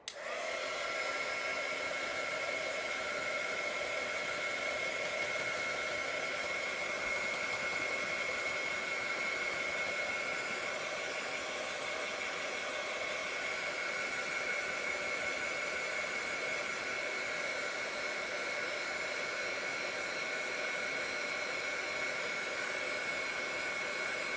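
A dryer blowing steadily to dry paint on a handmade card, a loud continuous whooshing hum with a fixed whine that holds unbroken from start to finish.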